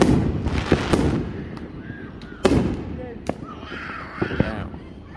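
Small fireworks crackle and pop in a scattered series of sharp bursts at moderate distance during a Fourth of July night in east Las Vegas, with people's voices and background chatter mixed in.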